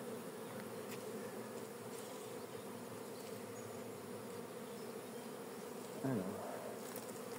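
Honeybee colony droning during a hive change, a dense continuous buzz at moderate level with a brief handling knock near the end and a short spoken word.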